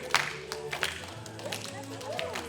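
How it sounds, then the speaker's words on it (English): Children clapping their hands to the beat at a library dance party, a few bright claps mixed with crowd noise and music-like tones, under light chatter. "Clap to the beat."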